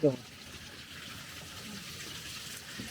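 Water gushes steadily from a cave beneath a house, where it turns an old water-driven grinding mill wheel in Bhaderwah, Jammu. The rush is continuous and fairly faint, with a brief voice at the start.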